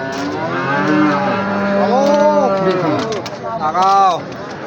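Australian Friesian bulls at a busy cattle market bellow in several long, loud moos that overlap one another close by, with crowd noise behind them.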